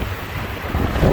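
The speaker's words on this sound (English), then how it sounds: "The wind is blowing people's hats off." Strong gusting wind at a truck fuel stop buffets the microphone, a loud low roar that swells toward the end, with no voices.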